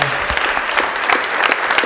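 Audience applause for a wrestler, a short burst of lively crowd clapping, loud and close throughout.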